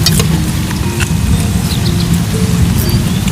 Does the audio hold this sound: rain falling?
yes